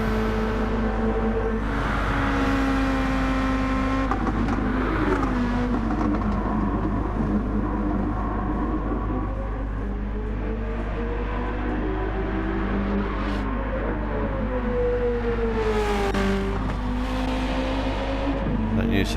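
Loud, steady engine drone from Group 2 race cars lapping Suzuka in Gran Turismo 7, with revs climbing and dropping through shifts and other cars roaring by near the end.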